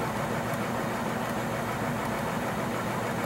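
An electric motor on a free-energy test rig runs steadily at close to 400 RPM, giving a constant, even hum and whir with no pauses and no talk.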